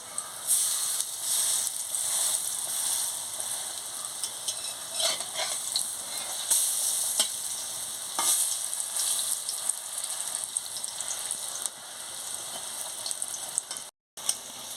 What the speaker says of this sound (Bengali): দেখুন বন্ধুরা, কি সুন্দর লাল লাল হয়ে ভাজা হয়ে যাচ্ছে।